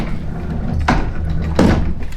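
Hotel room door at MacArthur Place in Sonoma, California being pushed shut: two short, close thuds a little under a second apart over quiet room tone, no speech.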